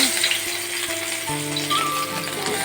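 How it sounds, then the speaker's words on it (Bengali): Fish frying in a pan on a gas stove, a continuous close sizzle and crackle with brief tonal clinks over the top. "তাই মাছটা ভাজি করতেছি উপরে"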